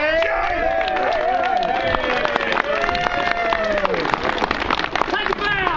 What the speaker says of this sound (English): can we have a massive, massive round of applause if you'd like to make it front and centre